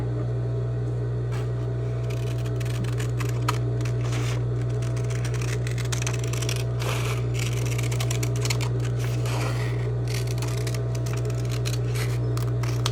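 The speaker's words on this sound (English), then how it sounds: "I'll go ahead and cut it out" Scissors cut a convex curve out of a paper seam-sample pattern, giving a steady stream of small, close snips and paper rustles over a constant low electrical hum.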